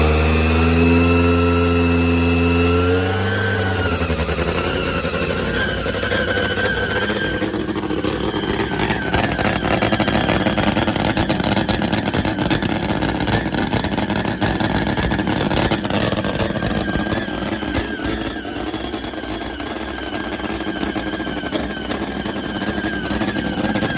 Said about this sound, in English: Four-cylinder juggernaut burning nitro methane supercharged.